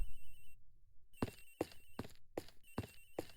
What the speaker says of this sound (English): The ringing's coming from somewhere in here, sir!